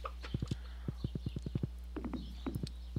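Horse hooves clip-clop at a steady trot in Stardew Valley, a run of evenly spaced thuds that breaks off and resumes after a short pause, close and clear over a low background hum.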